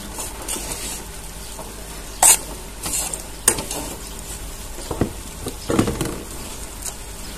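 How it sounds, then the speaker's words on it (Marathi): Motichur boondi ladoo mixture being stirred in a pan off the heat, with intermittent scraping strokes and sharp clinks of a spoon against metal over a faint sizzle. "2 मिनिटं आपल्याला परत हलवून घ्यायचं आहे"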